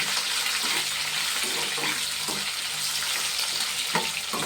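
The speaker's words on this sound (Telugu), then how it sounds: "పచ్చిమిరపకాయ ముక్కలు వేస్తున్నాను. ఉల్లిపాయ ముక్కలు" Chopped green chilies and onion pieces sizzle and fry in a hot pan, a continuous crackling hiss with a few clinks of stirring, close and steady with no voices.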